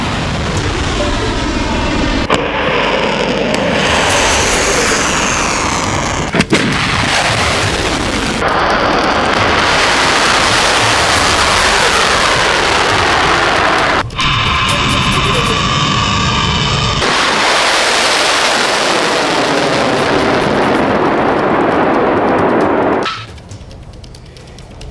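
Interceptor missiles launch over Israel during an Iranian ballistic missile attack, a loud sustained roaring rush with booming bursts and abrupt shifts, continuing for over twenty seconds before cutting off.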